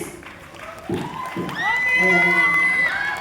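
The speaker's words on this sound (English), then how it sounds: "Please, round of applause, please!" A concert crowd cheers and applauds, rising to a loud, sustained roar of clapping and shouts with a bright tonal line of music or a voice carrying over it.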